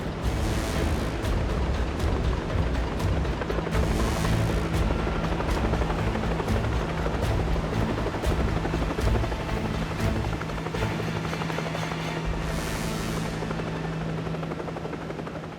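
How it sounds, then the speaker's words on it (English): Rescue helicopter operating near a volcanic eruption in Guatemala, with a loud continuous rotor and turbine roar that stays steady and close throughout and carries no voices. "Ben makes it safely onto the helicopter and is flown back to base"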